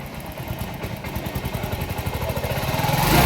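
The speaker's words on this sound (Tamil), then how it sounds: "வண்டியில் இப்போ அருமையாக ஓடுது." TVS XL100 moped engine running steadily after an injector repair, a close, even putter with regular firing pulses that build slightly louder toward the end, with no talk over it.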